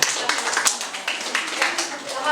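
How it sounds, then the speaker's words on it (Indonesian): An audience claps hands in a chemistry classroom lesson, brief bursts of clapping for a couple of seconds, with some speech mixed in. "ya tepuk tangan buat"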